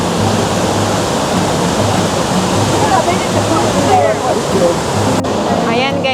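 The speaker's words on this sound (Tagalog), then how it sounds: "Nandito tayo sa Shifen Waterfall." Shifen Waterfall in Taiwan roars in a loud, continuous wash of rushing water close by, with people talking briefly over the steady roar.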